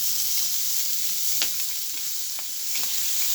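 Pork browns in a hot pan with a loud, bright, steady sizzle and a few light utensil scrapes, close up with no talking.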